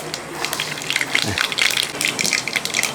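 Mustard seeds crackle and pop in hot oil for a lemon pickle, with dense, irregular spluttering that runs steadily throughout at close range.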